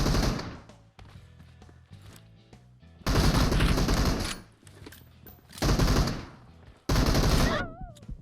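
Loud bursts of automatic gunfire in the PUBG Mobile video game, three long sustained volleys separated by quieter gaps with lighter shots, all close and harsh.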